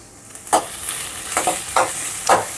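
Onions fry in a kadai with a constant hiss, broken by four distinct bursts of scraping and stirring from a spoon, heard up close.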